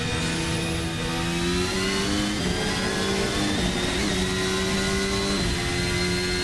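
Formula Alpha race car engine in a racing sim, a loud, steady high-pitched whine holding pitch with brief dips and rises as the driver shifts and modulates throttle, continuous throughout with no talk.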